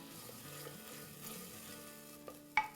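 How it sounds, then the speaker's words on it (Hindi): A wooden spoon stirs chicken and tomatoes in a clay handi pot, making soft, steady scraping at low volume, then two sharper knocks against the pot near the end. "ये जो है ना वुडन स्पून की ये जो आवाज़ हांडियों में"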